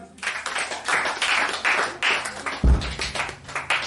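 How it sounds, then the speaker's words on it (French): A church congregation claps in a steady, moderately paced rhythm of repeated hand strikes, fairly close and even, with a low thump partway through. "Acclame pour Jésus"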